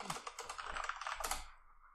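Fingers typing on a computer keyboard in quick, uneven bursts of key clicks, close and fairly quiet, with the tapping stopping just before the end.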